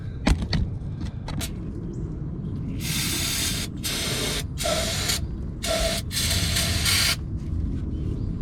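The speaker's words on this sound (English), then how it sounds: "Just gonna hit it with some brake cleaner now." Brake cleaner sprayed onto a Ford 462 V8 engine in a Lincoln Continental during an oil filter change, several loud hissing bursts of varying length separated by short pauses over a low engine-bay background rumble.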